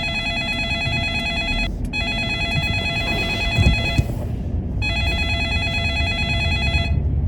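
A telephone ring tone pulses in long repeated bursts with short gaps, loud and near, over a low background hum as a call to a friend goes unanswered.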